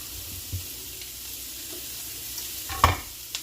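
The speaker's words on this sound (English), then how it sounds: "we're just going to saute these vegetables on medium" Vegetables sautéing in a pan on medium heat give a steady low sizzle, with a few soft stirring scrapes and one sharper clatter near the end.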